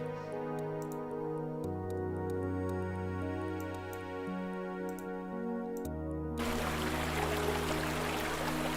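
A recorded waterfall ambience suddenly cuts in after a stretch of soft tonal music, its dense, steady rush of falling water filling the final few seconds loudly and alone.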